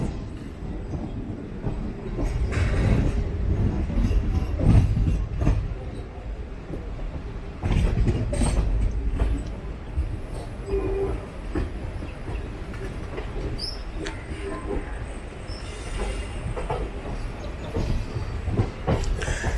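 The 16325 Nilambur Road - Kottayam Express runs steadily on the rails, its wheel and carriage rumble continuous and fairly loud, with irregular clacks and rattles rising and falling throughout.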